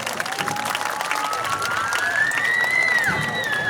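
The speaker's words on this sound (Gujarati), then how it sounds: "ભાઈ તો તાળીઓ તો વગાડો" Audience applause and crowd noise fill the closing ceremony of the 18th summer camp run by Om Academy in Viramgam, a steady, dense wash of clapping with a thin whistle-like tone gliding above it.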